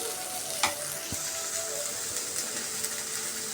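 Egg curry masala fries steadily in a generous amount of oil, giving a continuous close sizzle with a few faint clinks from stirring.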